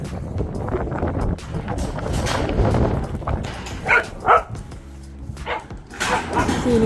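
Dogs on an off-grid homestead bark a few times at mid distance amid wind buffeting and outdoor rustling, with brief sharp yelps breaking through the noise.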